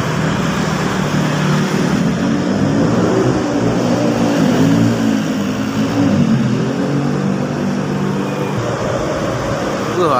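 An Agra Mas night-service bus from Wonogiri passes through an underpass, its engine droning loudly with a shifting, tonal hum that rises and falls as it moves through, over steady traffic rumble.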